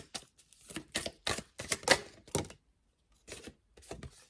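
An affirmation card is drawn and handled from a deck, making a quick run of crisp, papery taps and flicks, then a short pause and a few softer clicks, close and quiet.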